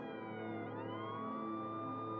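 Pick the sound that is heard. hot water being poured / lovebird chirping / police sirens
police sirens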